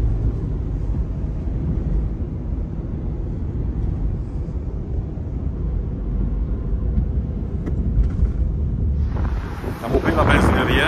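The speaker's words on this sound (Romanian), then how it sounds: "Vântul tot așa bate și viscolește zăpada." Strong wind drives blowing snow across a gas station during a blizzard in Lithuania, a heavy, steady roar buffeting the microphone close up, with a brief brighter rustle near the end.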